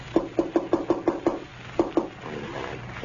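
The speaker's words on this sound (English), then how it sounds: "Somebody at the door." A door is knocked on in an old-time radio comedy, a quick run of seven sharp, evenly spaced raps followed by a short pause and two more knocks, close and loud over a faint hiss.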